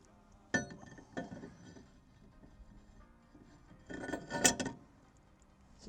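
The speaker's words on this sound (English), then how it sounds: "And then we get our rotor on there." A brake rotor is fitted onto the hub of a Kia Forte during a big brake kit install, producing a few sharp metallic clinks and knocks, close by and separated by quiet gaps.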